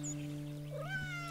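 A cat in the video game Garden Simulator gives a single rising meow as it is petted, a short clear call over a steady low game hum.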